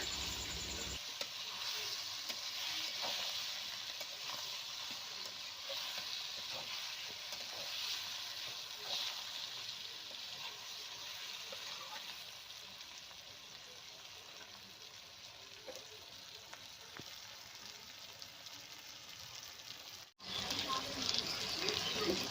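Catla fish fat frying in a pan with salt, turmeric and chili powder, a continuous soft sizzle under occasional stirring scrapes, fairly quiet and close, no voices, ending in a brief cut.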